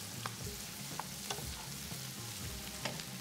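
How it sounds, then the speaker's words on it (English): Winter stew sizzles and crackles steadily in a pan, with occasional scraping stirs, quiet and close with no voices. "This is how sounds the winter stew."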